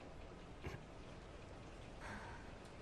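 Rain falling outside in a film scene, a steady soft hiss throughout with a couple of faint brief knocks, quiet and even with no speech.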